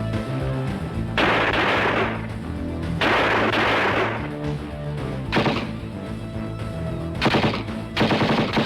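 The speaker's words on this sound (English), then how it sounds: "The gunfights are so good." Movie gunfight gunfire: loud bursts of rapid automatic fire alternating with heavier shots, coming in repeated volleys with brief gaps between them and no talking.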